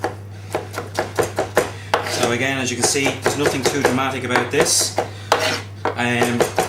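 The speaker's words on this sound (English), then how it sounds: "start chopping these and bring these ready into an actual what's called a tomato concasse, which is a rough chopped dice of tomato" Knife rough-chopping tomatoes into a concasse on a cutting board: steady, fairly quick taps of the blade that carry on beneath someone talking, with a constant low hum throughout.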